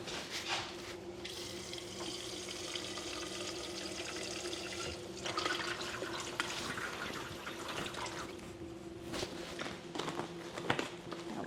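Water poured into a pot or jar of leftover pasta sauce to rinse out the last of it, a steady close splashing and trickling that runs on with small knocks and handling noises, no talking.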